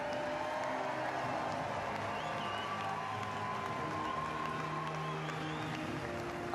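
Audience applause at a medal ceremony of the STIHL TIMBERSPORTS Individual World Championship 2024, a steady wash of distant clapping and crowd noise with faint cheers, lasting throughout at moderate level.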